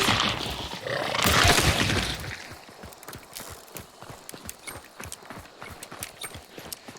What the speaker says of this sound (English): If somebody was here or nearby, you would hear the horses making a lot more noise